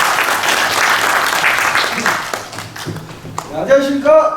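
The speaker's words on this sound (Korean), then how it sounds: "박수로 맞이하겠습니다" An audience at a citizens' rally gives warm applause to welcome a speaker, a dense burst of clapping that fades after a few seconds as voices come in over it.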